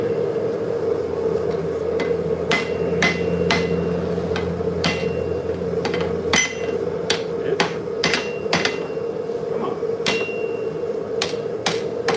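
Hammer blows forging hot metal on an anvil ring out in a loud, uneven series of sharp metallic strikes, some quick pairs, over a steady background hum, with no talk.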